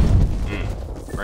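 A grenade goes off in Black Ops Cold War, a short, heavy, low boom that rumbles and fades within about a second, with a voice talking at the same time.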